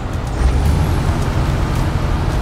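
A Mercedes-Benz six-wheel truck in SnowRunner letting out a loud, steady hiss of air from its handbrake release, close and continuous over a low engine rumble.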